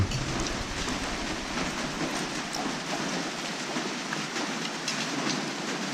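Steady rain falls without a break, a dense, even hiss of drops on surfaces in the evening, close and continuous with no voices.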